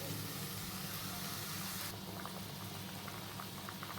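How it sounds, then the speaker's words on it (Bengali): A sour mango and mourala fish curry bubbling at a rolling boil, a dense steady close burble that softens slightly midway, heard alone. "আমাদের টকের ঝোলটা ফুটে উঠেছে"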